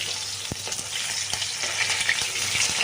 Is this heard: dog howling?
no